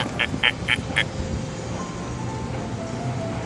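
A bird, likely a duck, gives four quick quacks in a row, then an outdoor background with a low steady rumble.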